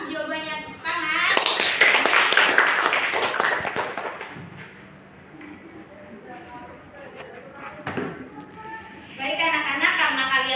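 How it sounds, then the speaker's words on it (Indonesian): Children in a classroom break into a burst of applause that lasts a few seconds and fades, followed by a teacher talking, then a second short round of clapping at the end. "Tepuk tangan."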